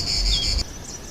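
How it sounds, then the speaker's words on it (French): Cicadas sing in a loud, dense, high buzzing drone that cuts off abruptly partway through, leaving a quieter insect hum. "nous rappelons aux cigales qu'il est interdit de chanter dans un espace public"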